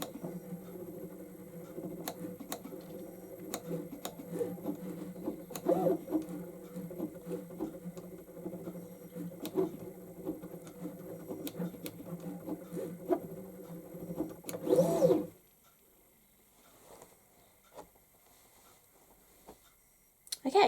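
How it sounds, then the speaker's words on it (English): A LOKLiK cutting machine slices heat transfer vinyl with a soft, busy patter of rapid ticks and whirring carriage movements, steady and close, then stops abruptly, leaving near silence with faint handling noise at the end. "it's finished cutting and we can unload the mat, and we've got our heat transfer vinyl cut out"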